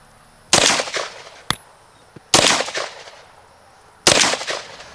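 Three loud gunshots from a PDW, a compact personal defense weapon firing from an internal magazine, spaced about two seconds apart, each with a sharp crack and a decaying echo, plus a faint click between the first two.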